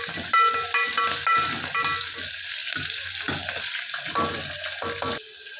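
Brinjal curry base frying in a pan until reddish, with a steady close sizzle and crackle, interrupted by repeated stirring scrapes and clinks throughout, with no talking.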